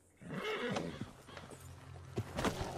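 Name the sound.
horse whinnying in Red Dead Redemption 2 video game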